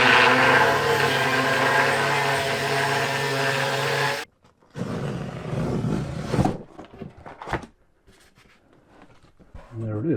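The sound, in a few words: grinding off metal brackets under van seat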